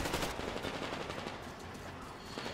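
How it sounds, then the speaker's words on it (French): Sustained automatic gunfire in the post-apocalyptic shooter game Metro Exodus, a dense rapid rattle of shots that continues without pause at steady, fairly loud level. "Alors, d'où ça tire?"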